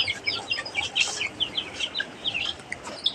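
Desi chickens with newly hatched chicks make many quick, high chirps and peeps that overlap in a steady, busy stream, with a soft cluck now and then underneath. The birds are close by and there is no talking.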